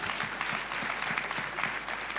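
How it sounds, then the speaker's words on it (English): A church congregation applauds steadily, dense clapping filling the whole stretch at an even, lively level. "Can we clap for Master Jesus?"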